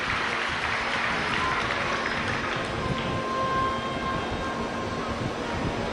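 An audience at a Shiv Mahapuran religious discourse claps loudly and continuously, a dense sustained wash of applause filling the hall, with faint steady tones underneath.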